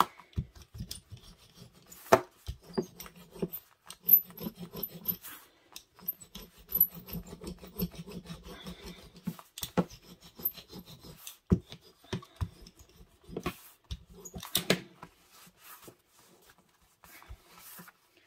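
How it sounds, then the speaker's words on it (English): A leather roller pressed along wallet seams gives intermittent rubbing and scraping strokes, soft and close, in short bursts with brief pauses. "a leather roller that I can give the seams"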